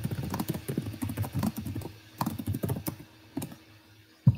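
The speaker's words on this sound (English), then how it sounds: "Are you typing, Andrew?" Someone types on a computer keyboard nearby, a quick irregular patter of key clicks in short bursts with brief pauses, no voices over it.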